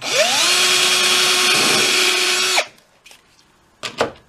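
A power drill whines loudly as it bores down through the wooden neck board of a cigar box guitar, the motor pitch steady for over two seconds before stopping, followed by a few faint knocks.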